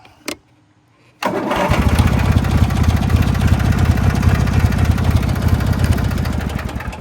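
A Taurus 650 three-wheeler's engine starts by electric start after a brief silence, then settles into a steady, loud, rough idle with rapid putting pulses.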